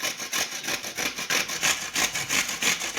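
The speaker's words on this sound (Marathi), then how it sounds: "आता ही बघा आपण कारली खिसून घेणार आहोत" Bitter gourd is rubbed back and forth across a grater in quick, rhythmic rasping strokes, close and steady, with no talking.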